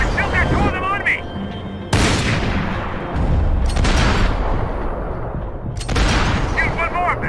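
Sharp, loud gunshots and booming blasts in the Max Payne game hit in several heavy bursts separated by short gaps, with a voice calling out briefly at the start and end between the shots.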